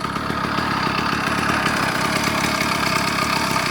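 A cheap two-stroke motorized bicycle engine runs rich, giving a steady, buzzing, slightly rough drone at close range with no talk over it.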